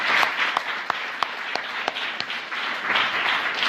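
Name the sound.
audience applause for Brother Andre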